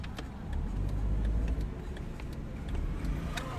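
A car passing on a road in Uganda, with a steady low engine rumble that swells and eases over a few seconds amid traffic noise, no talking.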